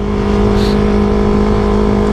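An aftermarket motorcycle exhaust revs loud and close, a steady throaty engine drone with a strong low hum holding through the whole moment and a brief rise in pitch partway through.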